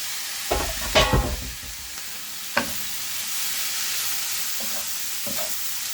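Lamb mince frying in a pan, a steady close sizzle under a few scraping stirs of a utensil, with a couple of louder clatters near the start.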